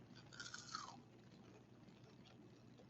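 A single loud crunch of biting into crispy chicken dim sum that tastes like fried chicken, followed by quieter chewing, close up with no talking.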